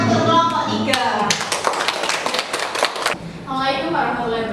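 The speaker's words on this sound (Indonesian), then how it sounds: "Kita kasih tepuk tangan untuk kelompok 3" Classroom of students clapping for group 3 during a lesson, a burst of quick, close hand claps lasting a few seconds amid chatter and voices before and after.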